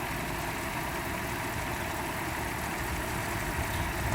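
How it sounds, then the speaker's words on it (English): A Mercedes SL500 engine idles at low RPM under an open hood after a throttle control repair, giving a steady, even hum that stays constant throughout. "I can even tell, like, the engine, the way it runs much lower RPMs than normal"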